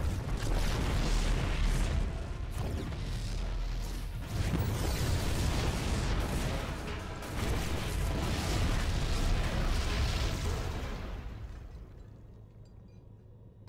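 Explosions rumble in the video game StarCraft II during the Kaldir mission Enemy Within, a sustained series of loud booming blasts and debris that thins out and fades away near the end.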